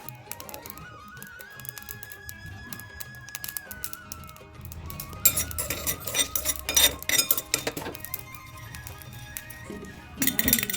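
Whole coriander seed, cumin, fennel, black pepper, two cardamom pods, a bay leaf and two dried red chillies dry roasting in a kadhai for kadai paneer, with a utensil scraping and clinking against the metal in irregular bursts over a quiet background.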